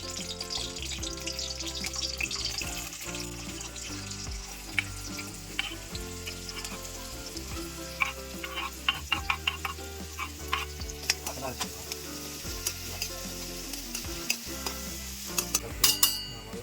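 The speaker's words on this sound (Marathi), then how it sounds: "तर आपण फोडणी देतो आता" Spices for a tempering crackle and sizzle in hot oil while a Konkan wild leafy vegetable dish is prepared. The frying hisses steadily and up close, with occasional sharp pops and utensil clinks from stirring, and no talking.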